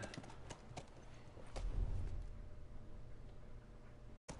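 Steady horse hoofbeats in The Last of Us Remastered clip-clop at a trotting rhythm, a little muffled, with a low rumble beneath them.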